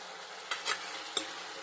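Tomato curry with turmeric and salt is stirred in a pan, a soft quiet scraping with two or three brief spoon strokes over a faint simmering hiss.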